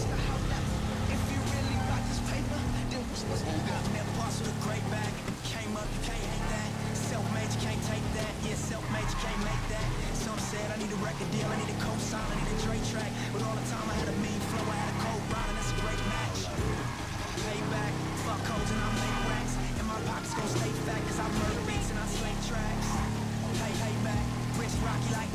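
A motorcycle engine in GTA V drones steadily throughout, riding in rain, its pitch rising and falling with throttle changes, while a voice talks over it most of the time.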